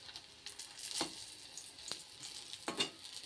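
Food fries in an iron wok on a home gas stove, soft sizzling with a few scraping stirs of a spatula, fairly faint and with no voices.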